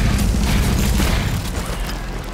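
Air strike in Call of Duty: Modern Warfare II, heavy rumbling explosions rolling together into a dense, sustained boom that fills the whole moment, loud and close, with no voices over it.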